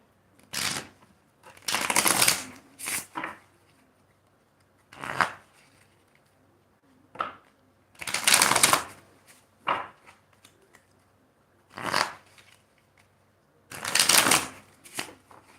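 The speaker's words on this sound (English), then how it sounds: "I'm going to use the little oracle deck here to clarify these energies." An oracle card deck is shuffled by hand in repeated quick riffling bursts, each a second or so long, separated by short quiet pauses, close and clear with no talk.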